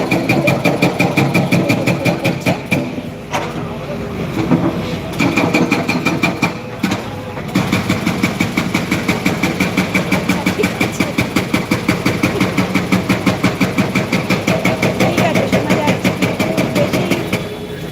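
Continuous machine drilling holes, a steady loud mechanical drone with a rapid rhythmic chatter that briefly dips and resumes, running unbroken with no voices.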